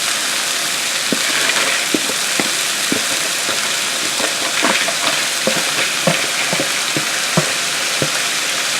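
Corn, onions, garlic and peppers sizzle in a hot pan with a constant frying hiss, broken by irregular scraping clicks of a utensil stirring the vegetables.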